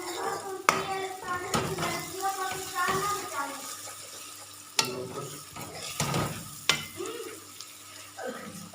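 Paste frying in a pan while being stirred, with scraping strokes and sizzling, sharp spoon knocks against the pan and some water-like splashing, close up.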